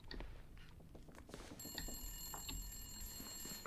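A telephone rings with a bright, sustained metallic trill inside the video game The Long Dark, starting partway through and continuing steadily over faint footsteps and room tone.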